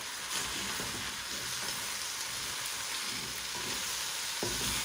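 Coriander stems stirred into a simmering Kenyan kuku kienyeji chicken stew, a continuous close sizzle and bubbling hiss with soft scraping stir sounds underneath, no talking.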